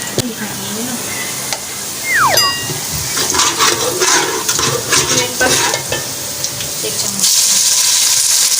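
Onions sizzle in a hot pan, with a steady frying hiss, stirring scrapes and clinks, and a brief water sound. A voice speaks over the cooking.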